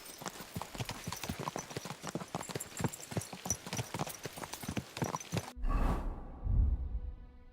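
Horses gallop in Kingdom Come Deliverance II, their hooves striking in a fast, loud, rhythmic clip-clop for about five seconds before the pounding abruptly stops and a low rumble and whoosh follow.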